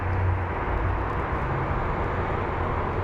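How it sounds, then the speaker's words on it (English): An American Airlines airliner taxis at Phoenix Sky Harbor airport, giving a steady, broad engine roar with a low rumble that stays fairly even, heard alone without speech. "So look, the American Airlines flight is over here taxiing."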